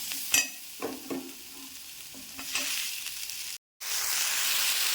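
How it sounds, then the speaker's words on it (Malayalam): Tomatoes with ginger-garlic paste are sautéed in a pan for a Kerala-style coconut crab curry. Several spatula knocks and stirs sound over a gentle sizzle, which briefly cuts out and then returns as a louder, steady frying hiss. "അതിനുശേഷം നമുക്ക് തക്കാളിയും കൂടി ഇട്ടൊന്ന് വഴറ്റാം."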